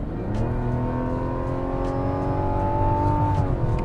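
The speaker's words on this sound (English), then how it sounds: "now that the road's opened up a little bit, I can open up this inline-six engine" Mazda CX-90 inline-six engine revving steadily up through the gears on an open road, a smooth, continuous growl with rising pitch that drops briefly near the end, heard from inside the cabin.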